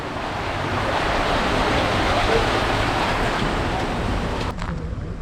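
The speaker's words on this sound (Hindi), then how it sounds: "अरे वाह, इधर भी कोई चश्मा चल रहा है।" Clear spring water flows steadily into a lake at Zell am See, Austria, a continuous broadband rush like surf that stays loud and close, easing slightly in the last second.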